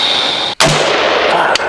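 A single loud, sharp gunshot from an AR-15 rifle fitted with a Brownells BRN-15 11.5-inch upper, firing 77 grain ammunition outdoors, bursts out after steady background noise, followed by a second fainter crack.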